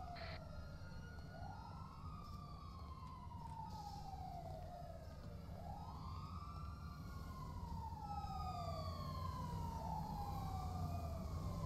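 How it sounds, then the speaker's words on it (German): Emergency vehicle sirens wailing continuously, several overlapping rising and falling tones sweeping slowly over a low engine rumble, fairly distant and steady throughout. "Ja. Sirenen. Abfahrt."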